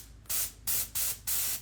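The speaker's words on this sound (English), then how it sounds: "with the airbrush, just kind of giving it some pumps of air." An airbrush gives four short, sharp bursts of compressed air, each a loud hiss lasting a fraction of a second with quiet gaps between, close to the microphone and with no talking.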